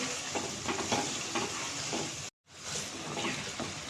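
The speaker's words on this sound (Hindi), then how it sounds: "अब अंडों को हम मसाले के साथ अच्छी तरह से फ्राई कर लेंगे।" Eggs fry with masala in a pan for egg biryani, giving a continuous close sizzle with stirring scrapes, briefly cut to silence midway before the frying resumes.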